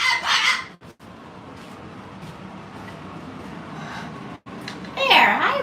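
Pet parrot Coco chatters in a busy stream of squawky, voice-like babble, with louder bursts at the start and end and a gap or two in between.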